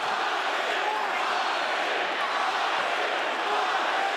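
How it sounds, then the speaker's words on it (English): A capacity crowd at a boxing arena, Usyk versus Briedis, cheers in a dense, steady roar that fills the whole stretch, with a commentator's voice running faintly under it. "the capacity crowd here continuing to cheer"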